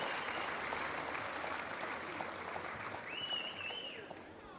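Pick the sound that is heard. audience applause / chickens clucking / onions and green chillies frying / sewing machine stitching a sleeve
audience applause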